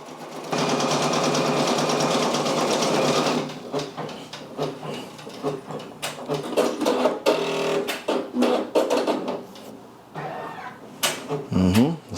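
A Brother Persona embroidery machine stitches a Michael Jackson patch. It gives a steady, rapid mechanical whir for about three seconds, then continues as a run of short, irregular clicks and taps.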